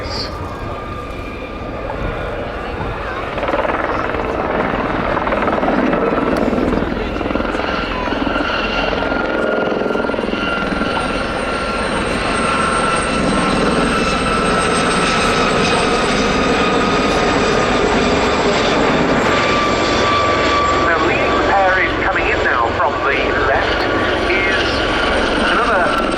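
Gazelle helicopters in 32 Squadron colours fly past at the RAF Cosford airshow, a loud sustained rotor and turbine roar building over the first few seconds, with a commentator talking over it.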